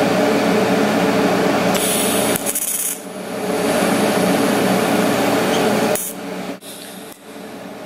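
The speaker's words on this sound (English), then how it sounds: "I'll just weld it up" TIG welding a steel roll cage mount with a Longevity welder set to about 95 amps with no pulse: a steady close-up hiss and buzz that drops out briefly twice before resuming.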